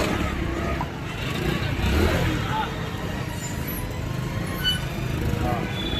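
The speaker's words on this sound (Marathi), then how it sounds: "ट्रॅफिक पूर्ण जाम आहे पुढं." Jammed road traffic near a courthouse gives a continuous rumble of car and motorbike engines with occasional revving, while a person talks over it.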